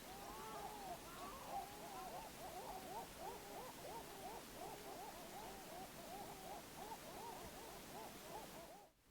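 An owl hooting outdoors at a remote camping spot, a steady series of wavering hoots repeating at even intervals, faint and distant over low background hiss, with no talking.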